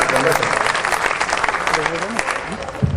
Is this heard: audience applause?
yes